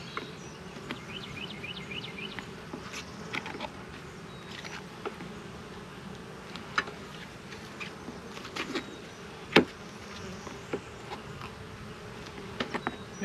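Honey bees buzz in a steady drone around an opened hive outdoors, with occasional faint taps and knocks, moderately close and without speech.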